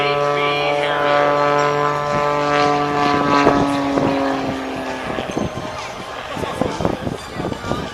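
At the Dayton Air Show, an aerobatic propeller plane flown by Sean D. Tucker performs the Harrier Pass, its engine drone rising and falling in pitch as it passes, then fading under a public-address voice.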